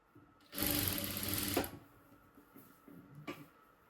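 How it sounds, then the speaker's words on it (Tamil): A sewing machine stitches a blouse patti, one close whirring burst of about a second, followed by a quieter pause and a brief second short run. "கொஞ்சம் கொஞ்சமாக ஸ்டிச் பண்ணணும்."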